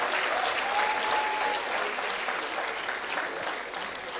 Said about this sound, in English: Let's clap louder,